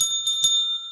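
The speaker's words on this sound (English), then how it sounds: "Get my bell ready." A small handheld bell rings out clearly, struck twice in quick succession and left to ring on, its pure bright tones sustaining and slowly fading.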